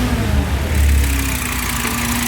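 An Audi RS engine swapped into a VW Caddy settles into a steady idle just after starting, a loud, close, even rumble with a low drone holding throughout.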